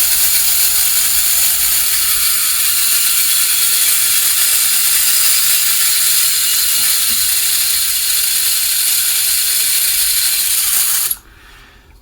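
A small electric motor from a 1956-57 #355 Baldwin diesel model locomotive runs steadily with a high, whirring buzz after a brush repair, holding one even tone for about eleven seconds before it cuts off abruptly.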